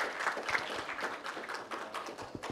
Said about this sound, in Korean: 큰 박수 한번 보내주시면 감사하겠습니다.